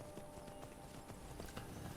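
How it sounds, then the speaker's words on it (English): Horse hooves clip-clop in the video game Skyrim, a quick, even run of faint hoofbeats repeating across the whole short moment. "We have the horse here named Frost that we've got to take to this dude."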